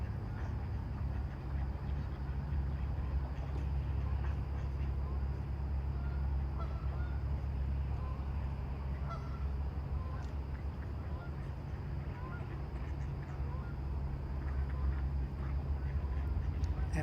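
Geese and ducks honking by a river at sunrise near an old Cape Cod house, scattered faint calls over a steady low rumble and background talk.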